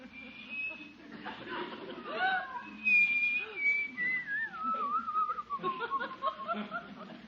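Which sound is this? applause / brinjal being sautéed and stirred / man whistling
man whistling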